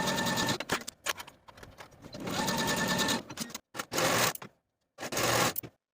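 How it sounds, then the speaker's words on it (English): A sewing machine stitches the inseams of pajama shorts in rapid, close, loud bursts of whirring, separated by brief pauses and silences. "Sew your inseams with a 1/2 inch seam allowance and finish your seams."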